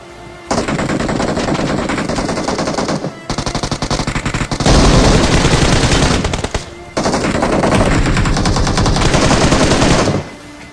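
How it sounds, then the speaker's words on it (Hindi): Heavy automatic gunfire from a building in a battle royale video game, loud sustained bursts lasting several seconds each with only brief gaps between them. "तभी सामने वाली बिल्डिंग से एक फायर आता है"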